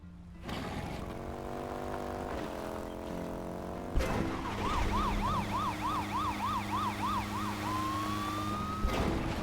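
An ambulance siren in a video game wails in a fast, regular up-and-down pattern over a steady engine drone, loud and close, before breaking off into a rising tone near the end.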